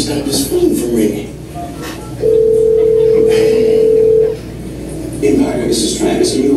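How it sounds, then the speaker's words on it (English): A telephone sounds a single sustained ringing tone lasting about two seconds between stretches of an office worker's speech, steady and prominent. "I can't stop this phone from ringing."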